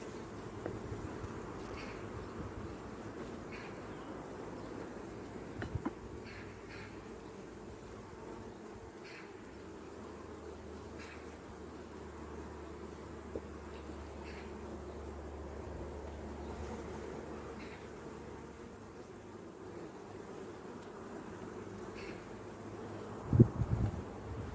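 A swarm of honeybees spread over six hive frames gives a steady, close buzzing hum that holds throughout, with a few soft knocks and a brief louder bump near the end.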